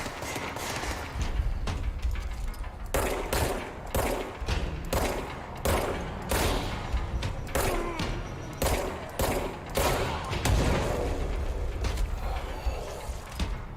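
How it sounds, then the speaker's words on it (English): Repeated loud blasts and bursts of gunfire-like booms in a spooky Halloween video game, arriving in rapid irregular clusters one after another throughout, with no talking over them. "What was that explosion sound?"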